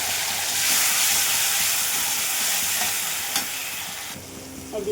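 Mustard and poppy seed paste sizzling and frying loudly with spices in a pan, a steady close hiss with stirring scrapes, easing slightly near the end.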